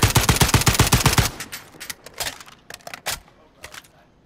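Rapid automatic gunfire in the video game Call of Duty Warzone, a loud, close burst of evenly spaced shots followed by a few scattered single reports and clatter.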